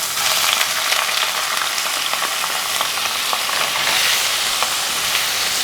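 Onions fry in hot coconut oil in a pan, giving a loud, dense, continuous sizzle with crackling pops scattered through it and no voices.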